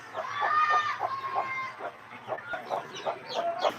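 A chick peeps repeatedly in a steady series of short, high chirps, close and clear over a faint background hum.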